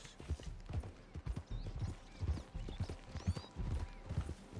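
Horse hooves clip-clopping steadily at a trot in Red Dead Redemption 2, a continuous rhythmic patter of close, moderately loud footfalls with occasional faint whinnies.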